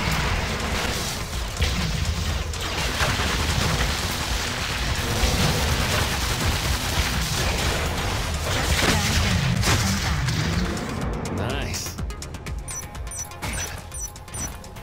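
Cannon tower firing in the Sanctum 2 video game: a dense, continuous barrage of booming shots and crashes that stays loud throughout.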